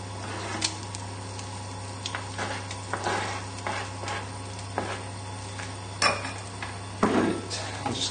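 Chicken livers fry in foaming butter in a pan, a soft sizzle under irregular clinks and scrapes as they are moved around, with a faint steady hum beneath.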